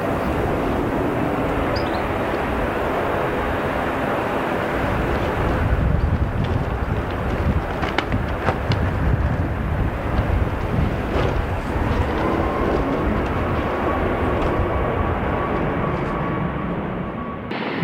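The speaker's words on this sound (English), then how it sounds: "The Singapore Airlines Airbus A350 requires a full power to recover from a wind shear on final." A Singapore Airlines Airbus A350 on final approach spools up to full power after wind shear, a loud continuous broadband engine roar with rushing wind that swells and holds steady for the whole stretch, no voices.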